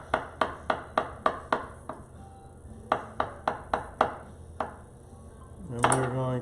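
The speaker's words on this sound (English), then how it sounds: "I've got those 3 cloves here, and I'm just going to slice them." A knife slices through soft black garlic cloves on a cutting board in a quick run of crisp, evenly spaced taps, pausing briefly and then resuming, ending in a ringing clatter.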